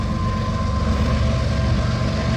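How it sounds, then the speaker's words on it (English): CN U714 freight train with double BNSF locomotives passing at the Ingers, a loud continuous low rumble of rolling wagons with a steady tonal hum, close by and without talk. "Symbol on this train is CN U714 or 16."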